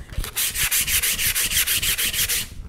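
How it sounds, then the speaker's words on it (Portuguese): Fine sandpaper rubs back and forth across a resin-stiffened fabric box in about a dozen even, rhythmic strokes, close and loud, with no voices. "só essa lixadinha e ficou lisinho, mais nada"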